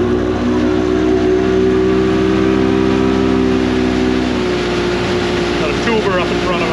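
An offshore fishing boat's engine holds a loud, steady drone with a tonal hum as it pushes up onto plane, settling into a rushing roar with wind and water noise, close and continuous with no speech.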